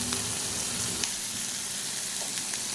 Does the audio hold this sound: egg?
yes